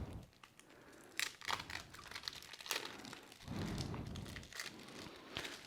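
Close crinkling and tearing of plastic shrink-wrap as a 2001 Cardcaptor Sakura trading card deck is ripped open, irregular crackly bursts with rustling in between, fairly faint.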